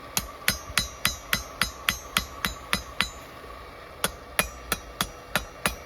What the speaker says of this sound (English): Just going to quickly try and forge the bottom collar of it.